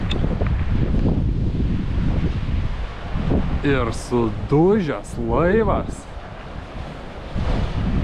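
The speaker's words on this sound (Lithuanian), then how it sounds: "Atlanto vandenyno krantai." Wind and surf roar steadily on an open Atlantic Ocean shore, with someone talking over the waves partway through.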